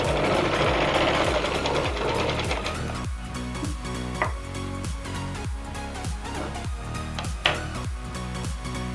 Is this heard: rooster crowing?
no